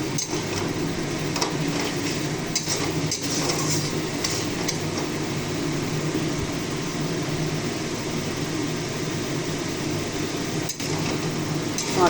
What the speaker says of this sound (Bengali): মশলাটা যতক্ষণ না তেল ছাড়ে ততক্ষণ অবধি একটু নাড়িয়ে নাড়িয়ে কষিয়ে নেবেন।